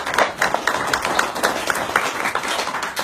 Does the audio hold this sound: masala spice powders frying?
no